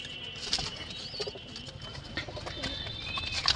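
Pigeons coo softly nearby amid a bit of chirping and fluttering, with faint background noise.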